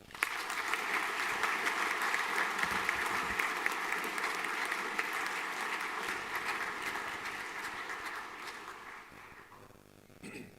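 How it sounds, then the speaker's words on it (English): Sustained applause from an audience at a school final assembly after junior colours are awarded, steady and dense for about nine seconds before thinning and fading near the end. "Big round of applause"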